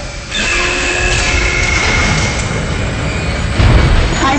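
A tram car arriving in the sci-fi horror game Dead Space: a loud, steady mechanical rumble with whining tones drawn out over several seconds, ending in a heavier thud.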